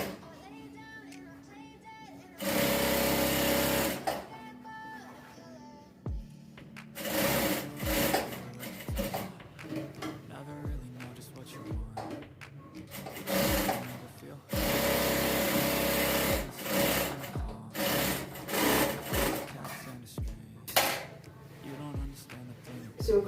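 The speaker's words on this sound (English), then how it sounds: "So after notching, I'll do a top stitch. I'll top stitch to where the facing is." A sewing machine top-stitches the neckline of a twist jumpsuit, running in loud bursts of rapid stitching and then in shorter runs, close up. A person talks quietly during the quieter stretches.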